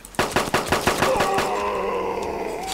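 Pistol fire in the zombie survival game ARMA 2 Zombie Mod: a rapid run of about seven sharp shots in quick succession, followed by a lingering ringing tail as the shooting stops.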